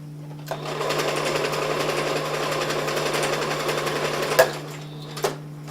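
Steady electric sewing machine stitching a pillow closed, soft fabric under the needle, a continuous close whir with a couple of brief clicks near the end.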